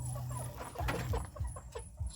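Several chickens cluck in short, uneven bursts close by at night, with a low background rumble.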